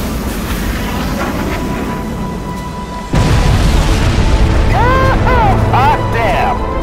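Heavy bomb blast in the video game Crysis Warhead at a beach resort base, a deep boom striking at once and rumbling on loudly, with radio voices and whistling tones over the roar.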